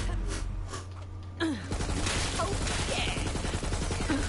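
Video game gunfire in Borderlands 3 comes as rapid automatic bursts, a dense rattling fusillade that picks up after a quieter opening and keeps going with sharp cracks.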